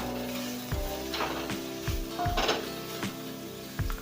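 Vegetables for veg spring rolls stir-fry lightly in a little refined oil, a steady close sizzle broken by several sharp scrapes and clinks of a utensil against the pan.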